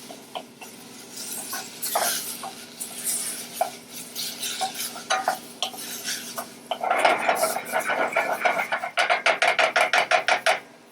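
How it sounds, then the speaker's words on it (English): Garlic and tomatoes stirred in a pan, with scattered spoon knocks and scraping, then a busy stretch of stirring ending in a quick, rhythmic series of metal taps close by. "Just going to give this a little stir. Get that garlic nice and incorporated."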